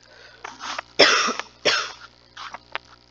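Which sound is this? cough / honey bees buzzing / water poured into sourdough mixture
cough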